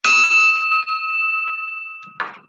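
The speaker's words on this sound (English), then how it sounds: "go ahead and ring the bell" A single bell struck to open a Rotary Club meeting in Newport, Oregon, rings out with a clear sustained tone that slowly decays, followed by a second fainter strike near the end.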